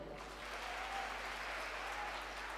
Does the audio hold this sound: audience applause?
yes